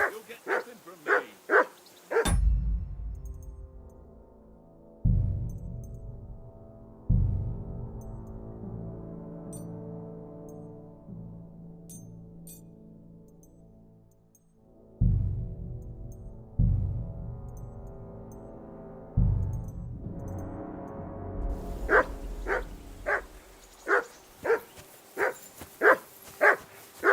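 In the video game Kingdom Come Deliverance 2, a dog barks in loud, sharp, rapid bursts at the start and again at the end, with deep resonant tones and thumps in between.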